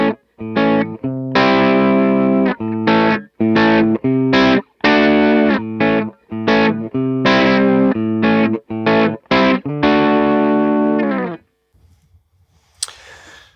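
Distorted electric guitar through a Line 6 Pod Go amp and cabinet model at standard settings plays chopped, rhythmic chords with crunchy amp tone, stopping abruptly near the end, followed by brief faint handling noise.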